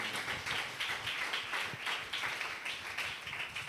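Steady rhythmic clapping from a church audience, fairly faint and continuous, with no talk over it.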